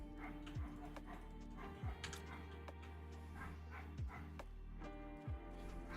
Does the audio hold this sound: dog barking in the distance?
yes